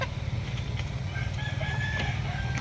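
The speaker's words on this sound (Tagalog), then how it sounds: "Yan ang tayo ng mga manok magkakapatid" Roosters crowing and hens clucking among a flock of game fowl in a Cavite housing area, several birds calling together over steady low background noise, the crowing drawn out and fairly near.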